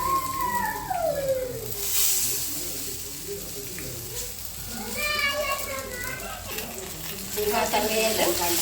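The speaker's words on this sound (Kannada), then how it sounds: "ಫಿಶ್ನ ತವ ಮೇಲೆ ಈ ಥರ ಹಾಕ್ಕೊಳ್ಳಿ." Marinated fish sizzles in oil on a hot tawa, a steady crackling fry that carries on through the whole stretch beneath a voice talking.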